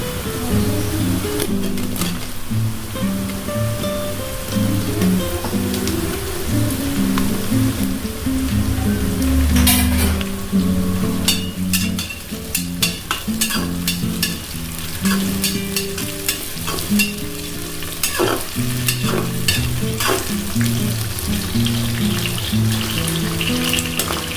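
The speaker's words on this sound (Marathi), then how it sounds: "कांदा परतलाय आपला त्यात आपण बटाटे टाकू परतवायला" Potatoes and onion sauté in a pan for spicy Maharashtrian matki khichdi. A loud, steady sizzle runs throughout, with bursts of scraping and stirring and a faint melodic background underneath.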